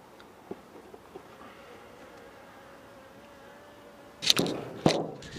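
Honeybees buzz around an open backyard beehive, a soft steady hum at close range with a few louder, sharper passes as individual bees fly near toward the end.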